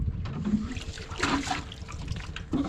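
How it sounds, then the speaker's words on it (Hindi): Water from a tubewell's holding tank fills a vessel with a continuous close trickle and splash, loudest in the middle, then slightly uneven toward the end. "और अब हम भरते हैं अपना बर्तन।"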